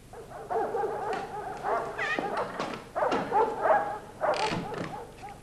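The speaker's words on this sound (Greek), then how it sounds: "Το σκυλί." A dog barks and whimpers in short yips and bow-wows, several bursts close by in a rural Cretan setting.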